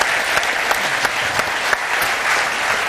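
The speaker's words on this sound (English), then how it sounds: "Round of applause for Tommy Mooney and for Clarke and for Lloyd." A crowd at a live football legends talk show claps steadily, with dense, sustained applause and a few sharper individual claps rising above it.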